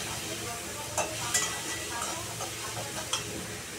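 Onion and garlic fry in a pan of hot oil, giving a steady close sizzle with a few sharp clicks of a spatula stirring against the pan.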